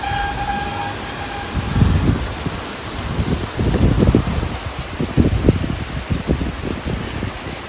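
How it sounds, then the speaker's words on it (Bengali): Heavy rain after a storm during a Kalboishakhi squall, large drops falling in a steady broadband wash with irregular louder bursts of rumbling gusts throughout, no one speaking. "বৃষ্টি শুরু হয়ে গিয়েছে ফাইনালি"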